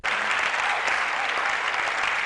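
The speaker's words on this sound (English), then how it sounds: "As you are clapping for her," Dense audience applause at a summit gathering at the University of Mines and Technology, a continuous wash of many hands clapping at steady loudness, close and filling the room.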